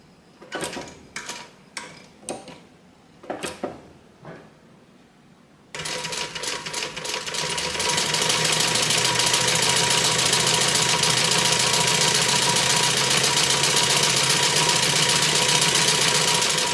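A few separate clicks and taps come first, then a sewing machine starts stitching a bag and settles into a steady, loud, rapid mechanical whir that runs unbroken to the end.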